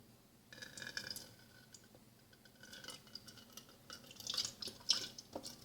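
A water and white vinegar mixture being poured while making a homemade fly repellent for goats: soft, close trickling and intermittent dripping, with faint clinks of a container.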